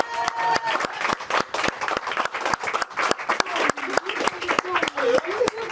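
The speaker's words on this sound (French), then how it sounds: "On peut l'applaudir." Crowd at a kickboxing event clapping for a fighter before the bout, a rhythmic burst of sharp, regular claps in unison, with talking and cheering voices underneath.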